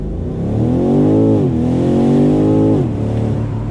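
A BMW M850i sports car engine revs hard and climbs through the gears accelerating from 0 to 60, the pitch rising, dipping at each shift, then rising again, loud and close.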